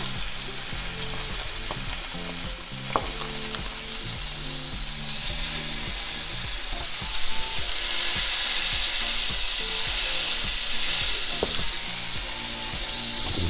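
Loud, steady sizzling of burger patties frying in a hot pan, a continuous crackling hiss with occasional sharper pops.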